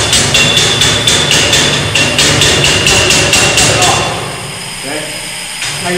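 Carbon arc gouging on metal sets up a loud, steady crackling roar with rapid irregular pops and spatter, close and continuous for about four seconds before it drops off into quieter hiss.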